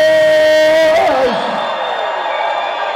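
Concert crowd at the Majestic Ventura Theater roaring and whooping loudly after a song, a sustained wash of cheering and yelling with a guitar tone fading out at the start.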